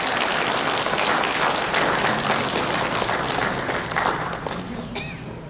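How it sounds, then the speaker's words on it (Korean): A church congregation at a Loma Linda Seventh-day Adventist service applauds, dense, loud steady clapping filling the room for several seconds before tapering slightly at the end. "박수 부탁합니다"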